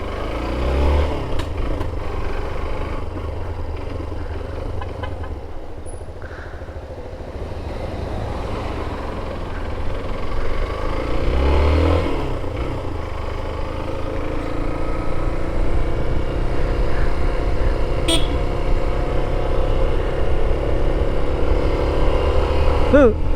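A Suzuki SZR 150 motorcycle idling and revving steadily nearby for a long stretch, its engine note rising in places, with talk over it.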